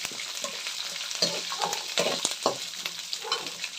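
Curry leaves hit hot oil for a Kannada-style avalakki chitranna (poha), giving a dense, continuous crackling sizzle with brief louder pops and stirring sounds, close and steady, with no talking.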